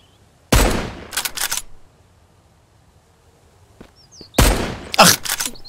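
Two loud bursts of rapid gunfire from a gun in the survival game Mist Survival, each a quick cluster of sharp shots separated by a quiet stretch with faint rustling.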